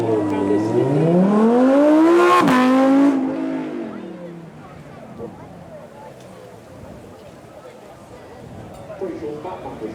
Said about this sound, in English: Originally it was a V8, now the V10, now you can only go with V10, V10 or V10 Plus format. It is Lamborghini Huracan this